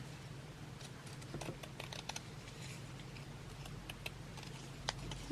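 Scissors cut out a small fabric piece with trim along one side for slow stitch butterfly work, giving soft, quiet snips and crisp clicks over a low steady hum, close and faint, with no talking.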